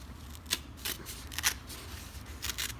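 Paper trimmed by hand, torn along a square fold with the fingers, in a few quick crisp rips and rustles close up, separated by short pauses.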